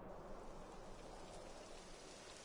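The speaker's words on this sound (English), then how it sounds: "now it's raining" Steady rain in the video game Dragon Quest 11, a soft continuous wash of falling drops at low volume with no voices.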